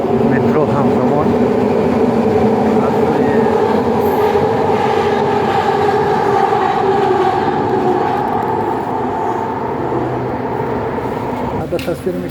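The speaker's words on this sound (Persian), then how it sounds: "2 تا مترو همزمان" A loud, sustained rumble and roar of two metro trains in Canada passing close by at once, with rolling rail noise that eases slightly toward the end.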